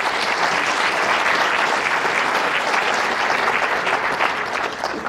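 An audience at a county State of the County address claps loudly and steadily for several seconds, a dense, even burst of applause with no voices over it.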